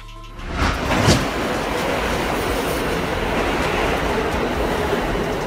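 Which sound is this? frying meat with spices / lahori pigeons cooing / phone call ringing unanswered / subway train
subway train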